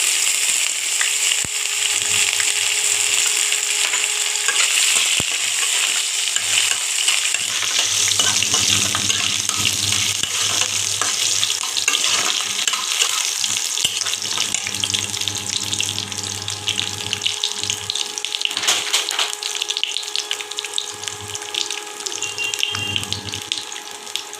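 Shredded coconut frying in a pan gives a loud, steady sizzle that hisses close up throughout, with faint stirring scrapes underneath and no voices.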